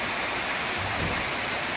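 Heavy rain pouring steadily onto village roof tiles, a dense unbroken rushing hiss that stays at an even level throughout.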